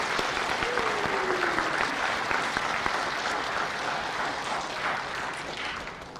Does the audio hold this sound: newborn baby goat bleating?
no